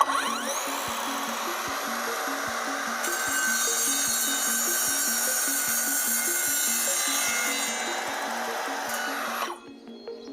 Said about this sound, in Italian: L'abbiamo fissato il tubo, quindi adesso procediamo col taglio.